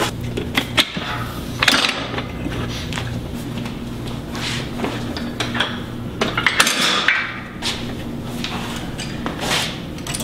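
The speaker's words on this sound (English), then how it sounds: "I'm going to lift the bench up, change the handles to a bar" Metal clanks, rattles and knocks from handles and a bar being swapped on a Powertec Olympic bench and functional trainer in a home gym, a run of scattered close impacts over a low steady hum.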